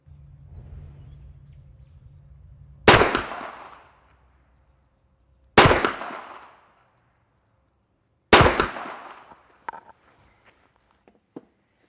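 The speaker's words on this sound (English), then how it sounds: "I'm shooting at a pretty rapid shot tempo" A Gen-3 Sub 2000 rifle fires at targets 50 yards out, three loud, sharp reports spaced a few seconds apart, each with a short decaying echo, followed by faint clicks.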